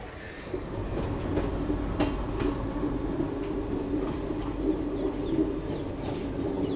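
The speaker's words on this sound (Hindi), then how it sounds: "यहाँ पे कोई पैसेंजर ट्रेन भी आ चुकी है बिलाड़ा जोधपुर पैसेंजर" Bilara–Jodhpur passenger train standing at a railway platform in Rajasthan, a steady loud rumble of coaches and machinery with faint clatter and a brief squeal, no voices.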